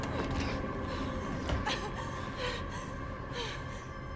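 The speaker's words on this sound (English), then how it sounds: "Ashley, why are you panting?" Ashley, a character in the video game Resident Evil 4, pants with quick, breathy gasps over a dense, steady bed of game ambience and music, the breaths soft and partly masked.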